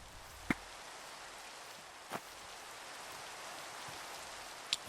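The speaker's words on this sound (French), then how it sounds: "La pluie c'est chiant" Steady rain hisses across the whole stretch, a constant wash with a few sharper droplet taps standing out now and then.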